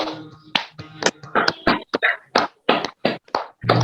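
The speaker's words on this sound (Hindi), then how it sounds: "फिर ताली।" Hand clapping during a meditation session: a dozen or so sharp, close claps in an uneven rhythm, each distinct and separated by short silences.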